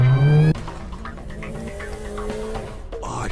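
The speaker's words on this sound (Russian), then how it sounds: "Офигеть, на новой тачке уехали." A car drives off in the video game Granny: a steady revving engine tone that starts with a loud horn-like burst, then a continuous motor drone with faint skid-like noise, no speech.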